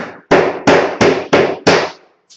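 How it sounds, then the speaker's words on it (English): A hammer strikes a small block to seat strips tight against an assembly, giving five sharp, evenly spaced, loud close knocks and then a faint sixth tap. "then I'll go through with a hammer and a small block,"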